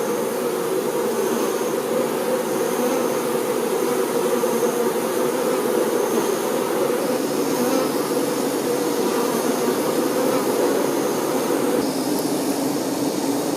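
Honey bees buzz inside a hive as a dense, continuous drone, loud and steady throughout with no voices.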